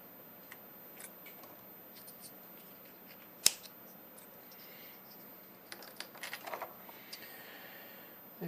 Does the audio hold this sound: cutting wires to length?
yes